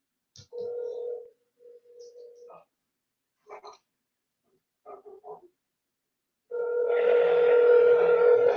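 A telephone call is placed, with short electronic tones in separate bursts, then a sustained ringing tone near the end, heard over a quiet line.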